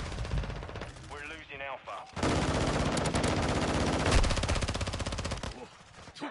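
Rapid machine gun fire in Call of Duty Modern Warfare II on PS5, loud sustained bursts filling most of the clip, with a brief quieter gap near the start where a voice speaks over the game audio.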